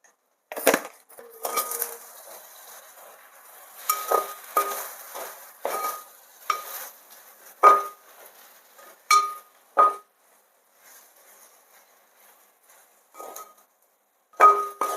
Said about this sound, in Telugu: ఇవన్నీ కలిసేటట్టు కలుపుతూ ఉండాలి.